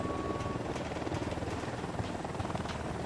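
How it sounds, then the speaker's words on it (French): A helicopter from the video game Ghost Recon Wildlands approaches with a faint, steady rotor thrum that stays constant throughout. "Hélico de l'Unidad en approche."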